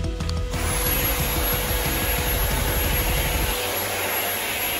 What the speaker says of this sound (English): What we need to do now is give it a quick vacuum to remove any dust or bugs.